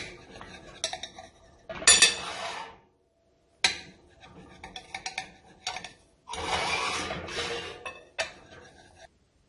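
A knife slices through a tomato omelet pie on a dish, giving several short scraping, clinking bursts of blade on plate separated by brief pauses, close and fairly clear with no talking.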